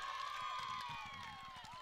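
A baseball crowd at a state tournament game cheers and claps after a strike, a brief diffuse swell with a whistle-like tone gliding through it.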